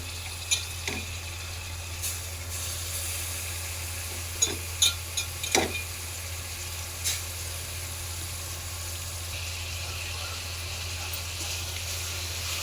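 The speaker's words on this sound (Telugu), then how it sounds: "ఇప్పుడు శుభ్రం చేసుకున్న బోటీని ఇందులో వేసుకోవాలి" Goat tripe goes into a pan of frying ginger garlic paste for Telangana-style boti curry, giving a steady low sizzle with scattered scraping stir knocks and clatters close by.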